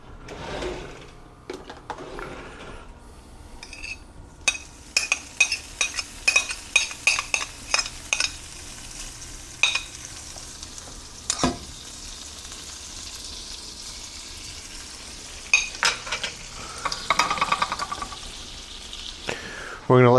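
Montauk oyster appetizer frying in a pan, a steady sizzle with scattered sharp clinks and scraping clatter layered over it throughout.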